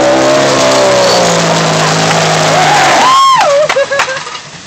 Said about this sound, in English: That's just exhaust rattling.